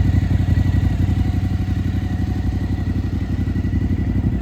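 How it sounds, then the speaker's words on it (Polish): A Suzuki DL motorcycle engine with a straight-through exhaust idles steadily with a deep, rapid, throbbing exhaust pulse, loud and close, running without pause and with no voices. "mamy fajny przelotowy wydech szarka. Bardzo fajnie na tym pracuje"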